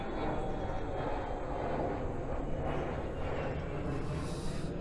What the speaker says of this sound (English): We've got a plane overhead.